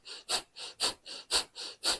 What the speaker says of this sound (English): we're going to do the inhales and exhales through the nose, this panting or pumping